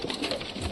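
Pigeons kept in a cage, a short burst of soft cooing heard close and steady, with no talking.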